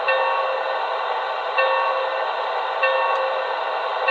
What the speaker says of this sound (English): Let's go ahead and listen to the bell again.